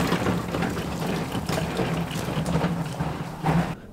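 A filthy Land Rover Defender gets a wash with water: a steady, close rushing hiss of spray runs through the whole clip and cuts off sharply just before the end.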